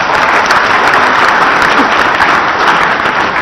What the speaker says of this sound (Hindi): ये तालियां बजा रहे हो।